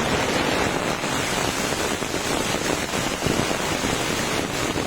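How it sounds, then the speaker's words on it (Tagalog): Heavy rain falls in a rural province in a dense, unbroken roar that fills the whole scene at a constant, loud level. "Bigla talaga yung lakas ng ulan."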